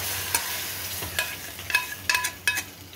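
Garlic fries in a pan as a sizzling ta'sha for mallow soup, a steady hiss broken by several sharp clinks and scrapes of stirring.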